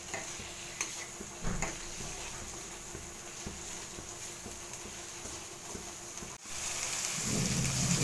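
Onion, capsicum and chopped chili are stirred in a pan over the heat, giving a quiet, steady hiss of sizzling with intermittent soft scrapes, growing louder near the end, with no talking.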